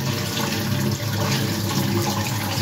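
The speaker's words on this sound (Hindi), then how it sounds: "तो गाइस अब मैं इसे अच्छे से वॉश कर लेती हूँ" Onions being washed in water in a home kitchen while making Old Delhi style crispy fried chicken: a steady, fairly loud rush of running and splashing water that continues without a break.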